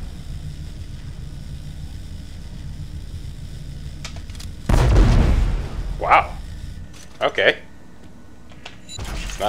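Kinetic energy projector weapon in Dead Space 3 fires a single loud booming blast with a rumbling tail, followed by a couple of short sharp pops, with voices talking around it.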